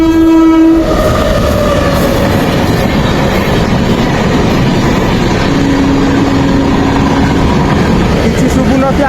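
A train passes close at a small village station, opening with a horn blast then a loud continuous rumble and clatter of wagons, with another horn note near the end and a voice faintly underneath.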